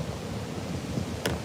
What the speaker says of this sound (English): I know it's windy, so I'm trying